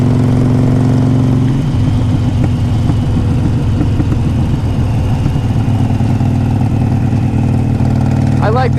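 A 2014 Harley-Davidson Forty-Eight motorcycle cruising at about 55 to 60 mph, its engine a steady low rumble throughout, with a rising whine near the end.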